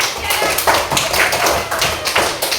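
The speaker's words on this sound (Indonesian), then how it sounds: "Tepuk tangan sekali" A classroom audience of students claps in a quick, uneven run of sharp, close taps that continues loudly from start to finish.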